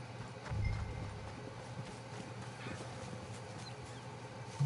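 Horse hooves clopping at a walking pace, soft and steady over a low background hum, with a brief thump near the start, from the video game Red Dead Redemption 2.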